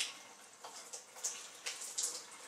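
Water drains from a reverse osmosis filter system in soft, uneven splashes and trickles, close by and fairly quiet, with a few brighter spurts near the end.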